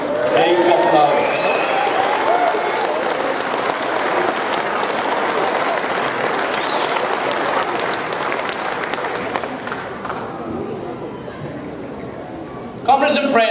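Loud crowd applause at an outdoor independence rally in Cardiff, dense clapping and cheering that carries on steadily, easing off a little toward the end before a brief burst of other noise.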